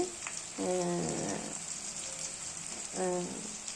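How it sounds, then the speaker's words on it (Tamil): Shallots, garlic and ginger frying in a pan give a soft, steady sizzle, with two brief tonal clatters partway through and no one speaking. "சின்ன வெங்காயம் ஒரு 1/4 கிலோ போட்டு வதக்கியிருக்குங்க"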